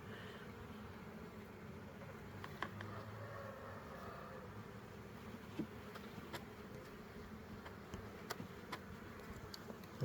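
A dense, steady buzz of many honeybees inside a hive fills the air, continuous and close, with occasional clicks and knocks.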